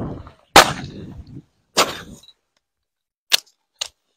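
Pistol shots at an outdoor firing range during cadet training, four sharp separate cracks, the first two loud and close with brief echoing tails, the last two fainter and more distant, with no talk between them.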